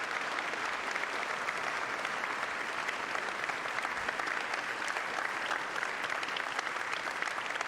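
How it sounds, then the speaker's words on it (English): Sustained applause from the audience at a university hall of fame induction ceremony honoring sponsors, a dense even patter of many hands clapping at a moderate distance with no talk over it. "A round of applause, please,"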